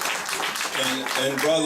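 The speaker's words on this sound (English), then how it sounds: "I'll give them another strong round of applause" An audience gives a round of applause at a speaking event; the dense clapping fades quickly as a voice starts talking over its tail.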